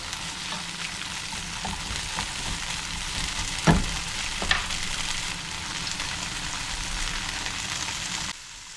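Vegetables and tofu stir-fry in a pan for chicken fried rice: a steady, close sizzle broken by two sharp utensil knocks midway. The sizzle cuts off abruptly just before the end.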